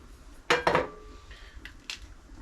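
Ingredients stirred in a cooking pot, with a couple of bright metallic clanks of a utensil against the pot followed by lighter scraping clinks, close and moderately loud in a quiet cabin kitchen.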